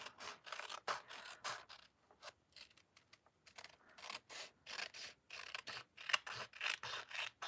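Scissors trimming craft paper during a paper-craft session, heard as a run of short crisp rasping snips and rubbing strokes, close and fairly quiet, repeating in uneven bursts with no talk over them.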